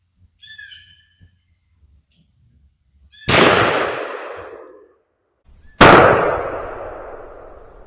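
.410 shotgun firing Remington Express XLR #7.5 shot at a 20-yard target, two loud sharp blasts a couple of seconds apart, each trailing off in a long echo, with a bird calling faintly beforehand.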